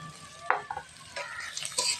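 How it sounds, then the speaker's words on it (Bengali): Onion, chili, carrot, potato and egg fry in a pan with soft sizzling, broken by a couple of sharp clinks and scrapes of a spatula against the metal; quiet and close, with no voices. "এটাকে ভালো করে আমি আর একটু ভেজে নেব"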